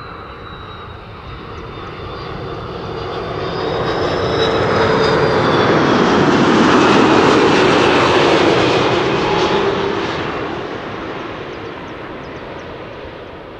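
A four-engine airliner such as an A340, Boeing 747 or A380 arrives at the airport, its roar swelling from moderate to loud as it passes close overhead, then fading slowly, with no talk.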